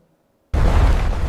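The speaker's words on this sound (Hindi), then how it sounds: "रोमानिया में चट्टानें डायनामाइट से उड़ाई जा रही हैं।" After a short silence, a sudden deep boom of dynamite blasting rocks in Romania erupts and rumbles on loudly, a heavy roaring burst that does not fade quickly.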